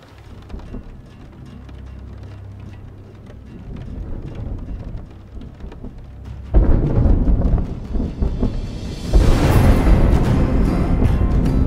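Thunder-style sound effect paired with a lightning flash: a low rumble builds, then two loud crashing bursts break in partway through and roll on, close and filling the space, with no voices.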